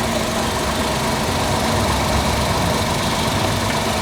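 Idling engine of a 2023 Tata Tiago XT, a steady close hum with broadband mechanical noise and no change in pace throughout, no voices.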